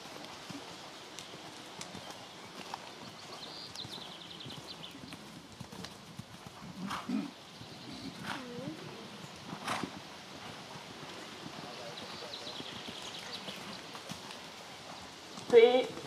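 Horses canter around a riding arena circle in a working-tempo canter, their hoofbeats a soft, steady drumming at middle distance, broken by a few sharper thuds and a snort, with a voice calling out at the start.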